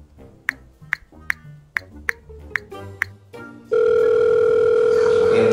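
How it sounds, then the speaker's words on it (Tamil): A telephone placing a conference call: about eight quick beeping dial tones sound in succession, followed by a steady, loud, unbroken electronic tone that holds to the end. "ஓகே சரி, லைன்ல இருங்க, நான் தயானு கால் பண்றேன்."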